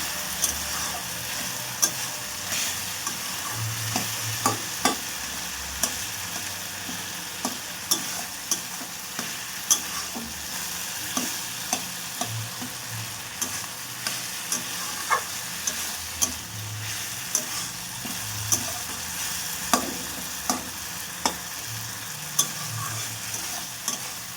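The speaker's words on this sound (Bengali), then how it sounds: "এটাকে একটু ঘেটে ঘেটে নেবো।" Food for puimichuri frying in a pan while being stirred, a steady close sizzle with regular scraping strokes of a spoon tapping the pan throughout.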